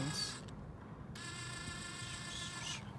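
A ratchet works on a 5/16 bolt on a 2006 Jeep Grand Cherokee 5.7L, making quick, close, rapid clicking bursts that pause briefly between strokes.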